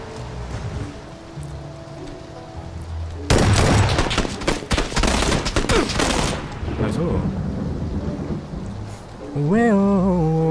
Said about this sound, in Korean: 아 이거 비 오는 게 제일 싫어